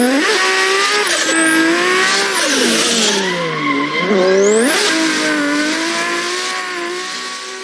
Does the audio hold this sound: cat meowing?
no